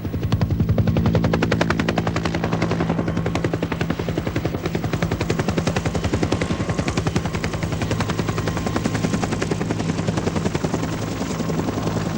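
Military helicopter rotor thudding loudly and steadily during the Dhofar Rebellion in Oman, with rapid bursts of machine gun fire mixed into the continuous engine noise.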